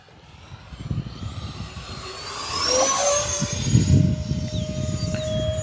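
An E-flite A-10 radio-controlled jet with twin 64mm electric ducted fans flies past, a rising whoosh and high turbine whine that swells toward the middle and lingers over faint outdoor rumble, with no talking.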